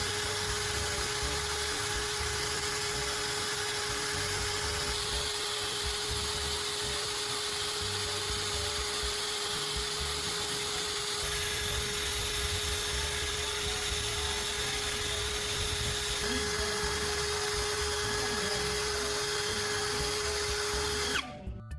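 A spinning sandpaper drum grinds against the metal blades of pruning shears, giving a constant high whirring drone with a steady tone and a faint grinding edge that runs on without a break before stopping abruptly at the end.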